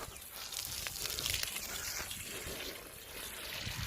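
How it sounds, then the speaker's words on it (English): Water pours and gushes steadily into a hole dug for a newly planted olive tree, a continuous splashing, trickling wash with no voices. "And it fills the hole up."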